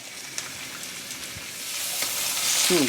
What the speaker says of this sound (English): It's going to pan. Got that nice sizzle.